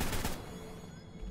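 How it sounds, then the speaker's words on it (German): A single sharp gunshot burst in the video game ARK at the start, followed by a decaying ring and low rumble, fairly loud against a steady background. "So, ein einziger Schuss durch den Motorblock"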